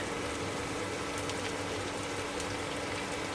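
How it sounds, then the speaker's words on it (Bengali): Onions frying in hot oil for a rohu fish curry with ridge gourd and potato: a steady, dense sizzle like heavy rain, continuous and fairly loud, with faint stirring beneath it. "ওই তেলের মধ্যে আমি পেঁয়াজ দিয়ে দিচ্ছি"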